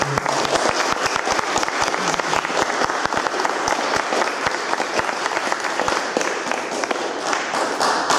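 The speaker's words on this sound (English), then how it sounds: "So please give Lorien a big round of applause." An audience at a Dorset Humanists health and wellbeing talk breaks into sustained applause, dense overlapping clapping that stays loud and steady throughout with no speech over it.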